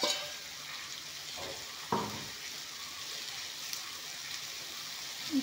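Chillies and kohlrabi frying together in a pan, a constant close hiss of sizzling oil broken by a few scraping stirs of a spatula.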